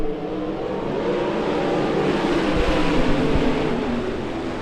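A pack of 360 sprint cars racing in a heat race at Keller Auto Speedway, making a loud, continuous roar of engines that swells slightly as the field passes and carries no talk.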